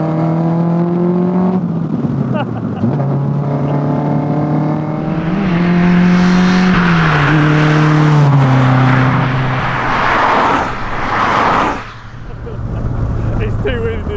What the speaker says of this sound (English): We've got the 2-litre V-Tech engine from a Civic Type R.